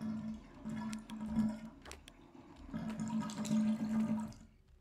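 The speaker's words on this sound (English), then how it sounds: "Is there supposed to be a toilet sound?" Toilet flush in a video game, a steady rushing, gurgling water sound that runs, dips briefly, then surges again and fades near the end, with no talk over it.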